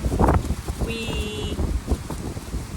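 Gusty wind buffets the microphone in low rumbling bursts, with a faint voice briefly audible.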